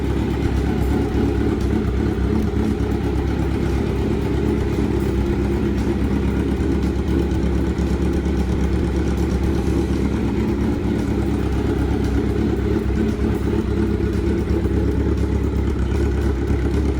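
A custom Daryl Dixon replica motorcycle engine runs steadily, a loud, close, continuous idling rumble with no voices over it.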